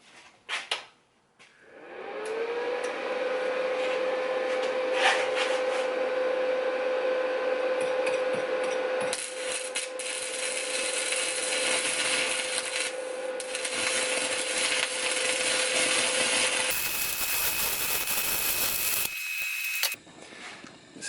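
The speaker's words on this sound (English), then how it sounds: "this is all galvanized steel, so I'm expecting this to be a pretty nasty weld." Welding on galvanized steel, a steady crackling, hissing arc held close and loud for most of the stretch, with a brief change near the end before it stops.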